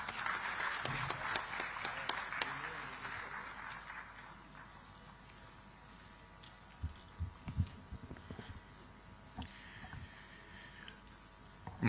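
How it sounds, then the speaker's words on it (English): An audience at a live ministerial speech event claps to welcome a speaker, a dense round of applause that fades after a few seconds into faint scattered sounds. "please welcome him with a huge round of applause."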